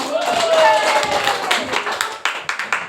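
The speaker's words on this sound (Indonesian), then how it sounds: "Ayo tepuk tangan dulu dong" A group claps for someone during a session, a loose patter of hands mixed with chatter and a voice, ending in a few separate sharp claps.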